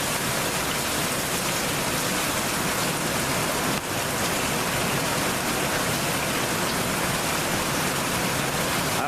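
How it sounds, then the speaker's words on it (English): Heavy rain pours down in a constant, dense hiss, loud and close, without pauses. "Y'all can hear the rain."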